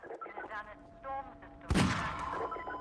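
A single loud .45 pistol shot from the Half-Life 2 video game cracks out sharply in the middle of the clip and is followed by a decaying tail, with game sounds and tonal music beforehand.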